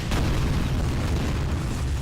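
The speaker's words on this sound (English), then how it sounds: "It's a massive cannon." A massive cannon fires in the shooter game Tower of Guns: one heavy, loud boom bursts out at the start, then a dense low rumble lingers for the rest of the moment, with no talking.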